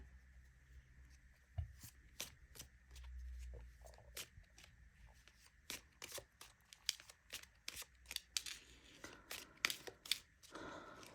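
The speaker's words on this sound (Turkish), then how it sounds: "hem nokta destesinden hem normal klasikten bir kart çekeceğim" Tarot cards drawn from a deck, with a quiet, close series of crisp card snaps and riffles, some louder clustered handling sounds near the end and no talking.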